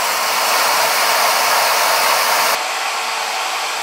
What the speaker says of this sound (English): there's the spindle on the CNC, so the router's sitting right there